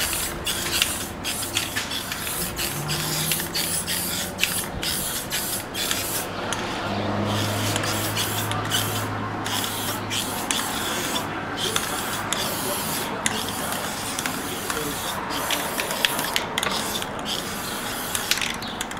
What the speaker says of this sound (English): paint over the entire gun to give it that final finish and make it more resistant to scuffs and whatnot